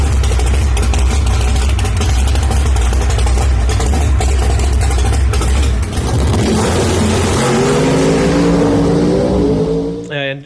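A mountain motor pro stock drag race car roars loud and close at full throttle, then the engine note drops and sweeps into a falling, rumbling coast-down before cutting off.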